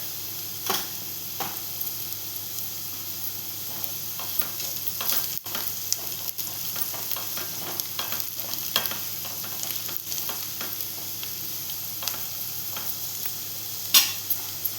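Onion sizzling and frying steadily in a pan with asafoetida and turmeric, a continuous bright hiss broken by scattered crackles and occasional stirring ticks, close and alone.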